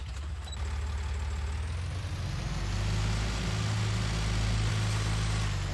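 A tractor engine in Farming Simulator 19 drones steadily at a low pitch, close and continuous, with a slight swell partway through and no talking.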